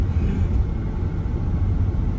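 BMW E71 X6 engine giving off a low, steady rumble at close range, a dense continuous drone with no voices over it.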